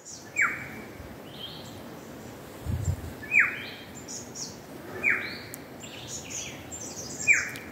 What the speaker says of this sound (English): You can hear the birds, you can hear the stream.